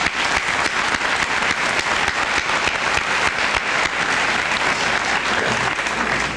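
Loud, sustained applause from a high school senior assembly crowd at Port Huron High, many hands clapping in a thick continuous roar with sharp individual claps standing out, unbroken by speech.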